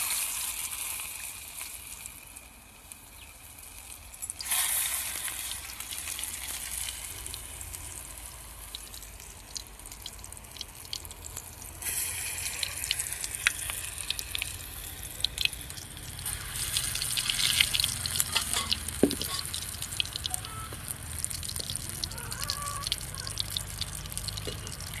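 Food sizzling and crackling in hot oil, a steady frying hiss with scattered pops and drips that grows a little busier partway through, close by, with no talk.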